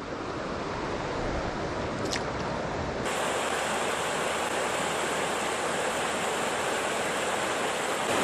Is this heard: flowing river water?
yes